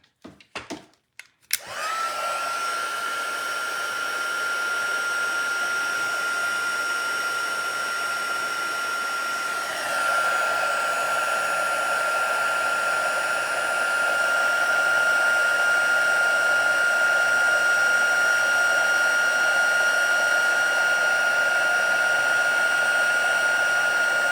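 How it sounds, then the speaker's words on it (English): Embossing heat tool blowing steadily and loudly after a few clicks at the start, a continuous whirring hiss with a slight shift partway through as it melts embossing powder on a stamped card. "I'm going to grab my heat tool again."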